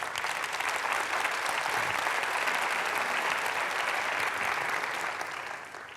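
Audience at a talk on anti-racism and inclusive education breaks into sustained applause, a dense, even wash of clapping that holds steady for several seconds before tapering at the end.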